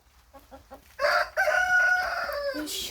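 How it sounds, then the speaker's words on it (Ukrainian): A few soft clucks from chickens, then a loud, close rooster crows in a long drawn-out call that ends with another brief squawk. "Так, півень у мене тут ходить."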